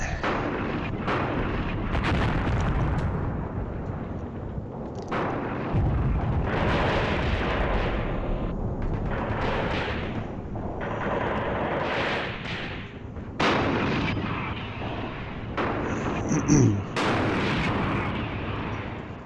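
Artillery and a tank being hit and exploding in the war video game Graviteam Tactics, Iraqi defences near the road to Hammoudi: continuous loud booming and rumbling blasts, with sharper bursts and cracks around the middle and near the end.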